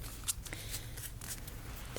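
Tarot cards are shuffled by hand, a quick series of soft riffling flicks and papery taps, close and quiet, with no talk over them.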